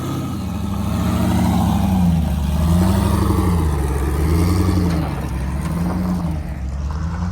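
A car engine runs hard during late-night road tuning, used like a dyno while the air-fuel ratio is watched. A loud, close, sustained drone rises and falls in slow repeating revving sweeps throughout, with no talk.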